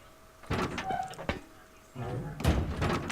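A base door opens in the survival video game Rust, heard as a few sharp mechanical clunks and slides spaced out over a couple of seconds, fairly close and loud.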